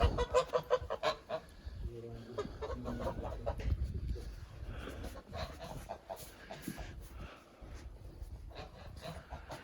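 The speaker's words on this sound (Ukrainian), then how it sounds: "Гусечки." Geese honk repeatedly, close by, with some clucking fowl mixed in and a busy, noisy farmyard background.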